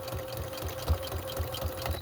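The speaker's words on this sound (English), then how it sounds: "I have my sewing machine going at a bit of a slower pace than I normally sew at" Sewing machine running at a slower than usual pace while stitching around a lace-trimmed word label, a steady rhythmic chugging of needle strokes with a faint continuous motor hum, close and alone.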